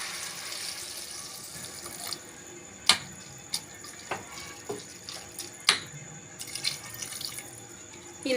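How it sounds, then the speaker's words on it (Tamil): Water pours and splashes into cabbage kootu cooking in a pan, a steady running stream broken by a few sharp drips and knocks against the vessel. "காய் வேகிற அளவுக்கு தண்ணி சேர்த்துக்கலாம்."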